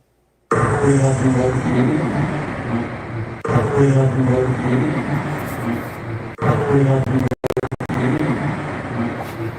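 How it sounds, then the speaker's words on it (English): A buzzing, droning jet engine passes by, sounding like a single-engine propeller plane, heard in three separate passes broken by abrupt cuts. "it sounded like a single engine prop airplane just flew by"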